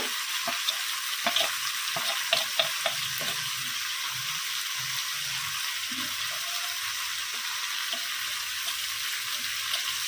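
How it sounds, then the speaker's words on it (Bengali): Crab curry with tomato, salt and turmeric is sautéed in a pan, with a steady faint sizzle and occasional soft stirring clicks and scrapes, quiet and continuous. "টমেটোটা দিয়ে ভালো করে কষাতে হবে আর এর মধ্যে লবণ স্বাদ মতো হলুদ গুঁড়ো"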